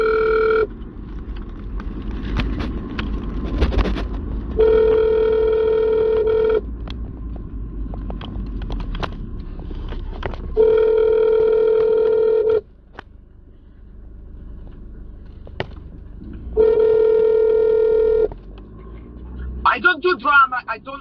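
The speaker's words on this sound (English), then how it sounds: "She just hung up the phone." Steady telephone tone after a hung-up call, sounding in repeated long bursts of about two seconds each with pauses between, fairly loud over low background rumble.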